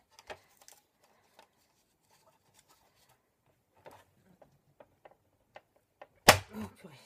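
A crocodile-shaped hole punch snapping through paper for a handmade Easter basket, preceded by quiet scattered rustles and taps of handling paper, then one loud, sharp close punch crunch near the end.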